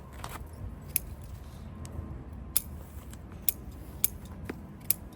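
Pruning shears cut back plant shoots with about five sharp snips at irregular intervals, each crisp and close, over a low outdoor background with no speech.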